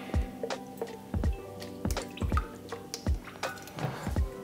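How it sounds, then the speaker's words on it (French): Mirin being poured into soy sauce while making teriyaki sauce, heard as a series of separate liquid drips and splashes, close and fairly quiet, with no talking. "ensuite vous mettez la même quantité de mirin."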